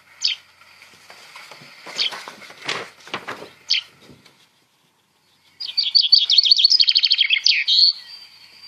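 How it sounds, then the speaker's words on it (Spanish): A common chaffinch sings: scattered short chirps and call notes come first, then after a brief pause a fast, rattling descending trill ends in a flourish, clear and close with no talk. "Este es un pinzón vulgar o pinzón común"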